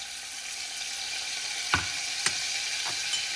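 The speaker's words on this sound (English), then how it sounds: "Now I'm going to take the juice of this lemon and squeeze it in as well." Steady hiss of butter sizzling in a pan as lemon juice is squeezed in, with a few brief louder spits and crackles breaking through the constant frying noise.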